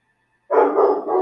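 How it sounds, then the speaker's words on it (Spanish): A single dog gives a short, sharp bark close by, breaking an otherwise silent room. "Lamento disculpen el perro."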